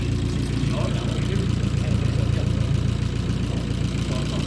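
The replacement engine of an Abarth 500 idling with a steady, low, rumbling drone, close and continuous throughout.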